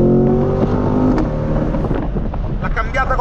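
A 2021 Chevrolet Corvette C8 in light traffic revs loudly from inside the cabin, holding a steady engine drone with rising harmonics through a gear change, with wind buffeting and background noise.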